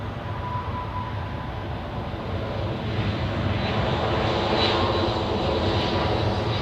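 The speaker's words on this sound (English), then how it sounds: "Now the departure rush of heavy airplanes is going on the runway 16" Heavy jet airliners departing on runway 16 at Zurich Airport during a busy Saturday rush, a broad continuous engine roar that swells slightly louder midway, heard from a distance with no talking.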